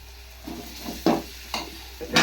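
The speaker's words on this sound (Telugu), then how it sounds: "సిమ్లో పెట్టి కొంచెంసేపు మగ్గిద్దాము" Tomato masala for an egg fry stirred in a pan on low heat, soft sizzling beneath a few distinct spoon scrapes coming in irregular bursts.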